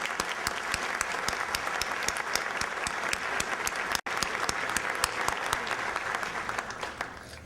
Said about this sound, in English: If we could have a round of applause for all of those.